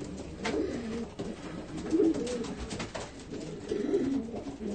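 Pigeons cooing softly nearby, repeated low throaty coos overlapping with faint rustling in an enclosed space.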